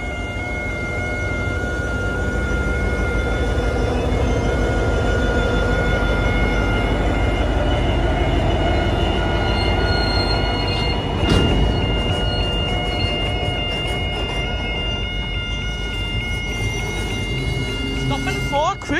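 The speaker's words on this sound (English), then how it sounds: "the fully loaded limestone train now departing" A fully loaded limestone freight train departs, a dense continuous rumble and roar of wheels and engine holding steady and loud throughout, with a sharp rail squeal or clank partway through.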